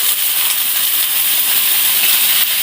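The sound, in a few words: water added to hot pan, steaming hiss for chitau pitha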